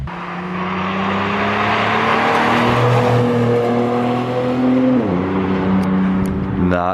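A Nissan 240SX S13 coupe fitted with a 370Z engine revs up with a steady rising roar, then the pitch drops and climbs again near the end, loud and close.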